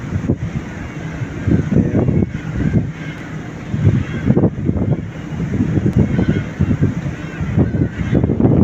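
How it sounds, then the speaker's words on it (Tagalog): A noisy flock of birds calls and squawks continuously near the Cape Town coast in South Africa, with bursts of honking cries rising and falling under steady gusting wind noise on the microphone. "Daming ibon guys. Nag-iingay sila guys."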